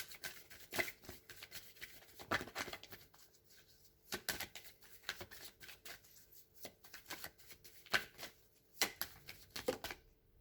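Tarot cards being shuffled for a reading, repeated crisp riffling bursts and soft flicks in irregular rhythm, close and fairly quiet, with no talking.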